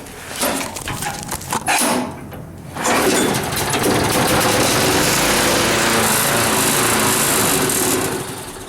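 A small vertical-shaft lawnmower engine sputters with a few pull-start attempts, then catches and runs at a steady, high-pitched buzzing roar.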